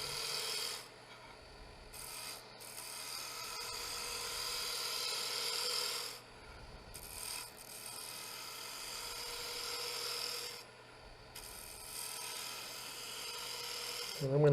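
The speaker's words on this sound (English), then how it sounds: "here's another left to right planing cut" Skew chisel making a left-to-right planing cut on spinning wood on a lathe, a close rasping hiss in several sustained passes separated by brief gaps.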